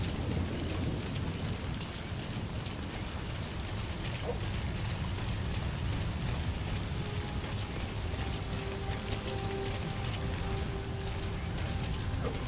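Steady rain pours without a break in the video game Metal Gear Solid V: The Phantom Pain, a dense hiss of drops spread across the whole span with a faint low rumble beneath.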